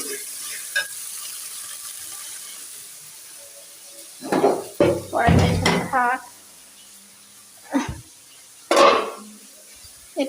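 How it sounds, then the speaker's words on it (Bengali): Ground coriander, chili, turmeric, cardamom, cinnamon and salt sauté in a pan, with sizzling and bursts of spatula scraping and stirring that come in irregular clusters over a quiet background. "ধনিয়ার গুঁড়া মরিচের গুঁড়া হলুদের গুঁড়া এলাচ দারচিনি স্বাদ অনুযায়ী লবণ দিয়ে মশলাটা কষিয়ে নেবে"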